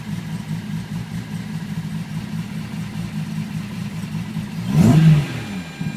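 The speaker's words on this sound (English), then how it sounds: "It's very free revving." A 360 hp Datsun Fairlady S30Z with a lightened flywheel idles steadily, then gives one quick free rev that rises and falls back to idle within a second, heard close with no talk.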